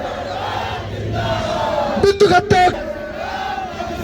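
A large crowd at a village rally for Bindukhata in Lalkuan chants slogans together, a dense, loud roar of voices with a brief sharper burst of shouting in the middle.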